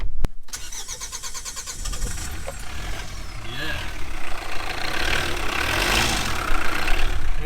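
An Audi TT race car engine turns over with a short crank, catches, and settles into a rough, rumbling idle up close. A voice talks over it.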